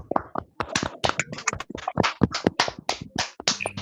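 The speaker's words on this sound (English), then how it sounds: "let's just give him a round of applause for a few seconds." A handful of participants at an online presentation session clap in sparse, uneven individual claps close to the microphone, a brief thin round of applause without voices.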